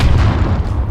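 A heavy booming blast of pirate ship cannon fire in the video game The Last Leviathan, one deep rumbling burst lasting under a second.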